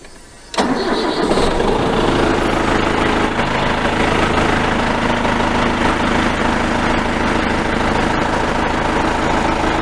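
A Massey Ferguson tractor engine, a 2635 or 5900 model, cranks and catches after a brief quiet start, then runs at a loud, steady, rumbling idle for the rest of the stretch, close by with no talking.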